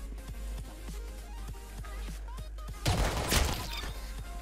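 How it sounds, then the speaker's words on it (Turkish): Tommy Gun firing in Roblox Arsenal, a run of sharp, evenly spaced shots over steady game background, ending in a louder, denser burst of gunfire near the end. "Yavaş sıkıyor biraz Tommy Gun bu oyunda"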